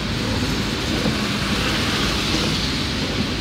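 Heavy rain pours steadily along a roadside during a thunderstorm, a dense, loud, continuous hiss with a low rumble beneath it, with no voices.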